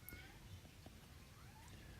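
A domestic cat meows faintly in the background, a few short, quiet mews in a quiet room.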